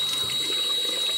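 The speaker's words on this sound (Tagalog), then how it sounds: "So, banlawan ko na siya" Tap water runs steadily while a face is rinsed at a sink, a close, soft continuous splashing hiss with no talking.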